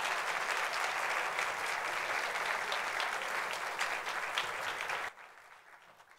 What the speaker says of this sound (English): I think let's give them another round of applause